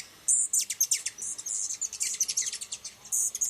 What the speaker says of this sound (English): These hummers make chip notes and diving display sounds